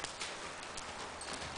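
Hooves of a yearling horse cantering, a quick repeated clip-clop rhythm with no pause over the whole short stretch.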